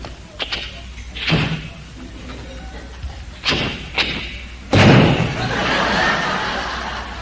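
A man vocally imitates a car door being opened slowly and carefully in a driveway, with a few sharp clicks and creaks followed by a sustained hissing, rushing effect.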